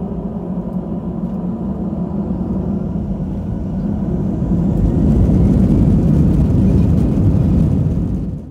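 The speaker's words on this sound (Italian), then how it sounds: "L'aereo finalmente si mette in posizione e allora io vi lascio con l'audio originale della partenza" Inside the cabin of a passenger airplane taking off from the runway, a deep, loud engine roar fills the space and swells steadily as the plane accelerates, with no voices.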